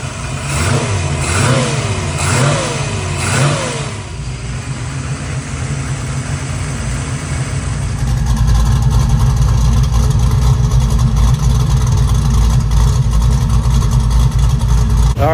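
A 500 hp 400 small-block Chevy V8 in a Trans Am, carburetted, running close and loud: a wavering, rising-and-falling note at first, then settling into a steady, heavy, rumbling idle.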